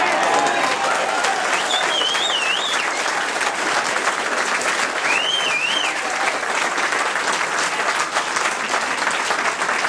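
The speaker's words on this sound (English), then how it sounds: "why do you whistle and applaud when I say that?" A political rally crowd applauds steadily while a couple of sharp whistles ring out over the clapping, loud and continuous from start to finish.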